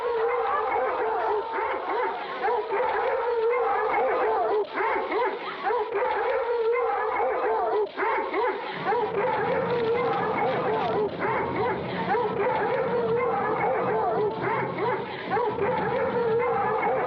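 A pack of hounds bays, barks and howls continuously, loud and dense, with dramatic orchestral music and voices over the top throughout.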